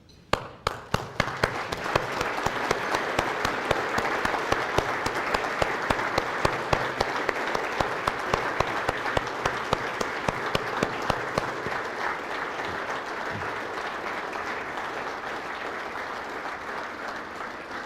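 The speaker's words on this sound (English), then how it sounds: "I'd ask you to stand and to join me in a round of applause" A standing audience at a motorsport awards ceremony gives a sustained round of applause, dense and steady for around eighteen seconds. Sharp, regular claps stand out over the crowd at first, then the applause continues evenly without voices.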